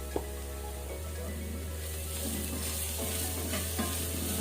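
Chicken filling with salt and a quarter teaspoon of turmeric sizzles steadily in a pan while it is stirred and mixed. A constant close frying hiss carries a few soft scraping strokes, and no one speaks.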